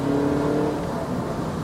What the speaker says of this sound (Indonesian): kalau kita aktifkan mode sportnya, kita akan dimanjakan dengan raungan suara mesin yang lebih kencang.